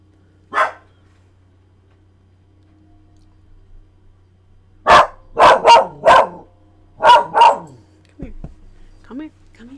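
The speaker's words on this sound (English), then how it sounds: "why is she still barking?" A large dog barks indoors: one bark, a pause, then a quick burst of six loud, close barks, with faint talk near the end.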